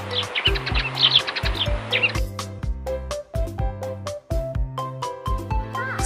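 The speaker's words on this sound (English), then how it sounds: "Sparrow." Busy little sparrow chirps and tweets flutter over a rhythmic plucked musical loop for a couple of seconds before the music carries on alone.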